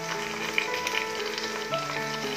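Garlic paste hits browning onions in a hot pan for a khichuri, giving a steady, close sizzle of frying with faint crackles throughout and no voices.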